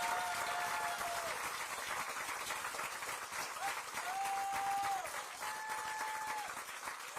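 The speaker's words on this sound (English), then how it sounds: "Please give our staff a round of applause." Steady applause from a crowd honoring City of Boulder staff, sustained and fairly loud throughout, with a few tonal whistle-like sounds rising above the clapping.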